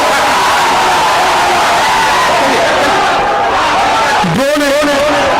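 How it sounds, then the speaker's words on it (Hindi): A large crowd at an outdoor political rally in Araria, Bihar roars and cheers loudly and continuously, dense and close, with a rising shout near the end. "जोरदार तालियों"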